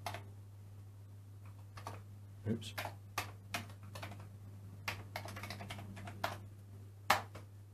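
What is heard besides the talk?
typing on a Commodore computer keyboard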